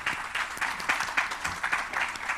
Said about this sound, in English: a round of applause for the brilliant panelists